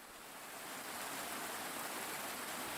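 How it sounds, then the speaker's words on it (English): Heavy rain pours down in a steady, dense hiss that builds slightly at the start and then holds constant, with no voices. "The rain bucketed down from above, soaking her to the very core."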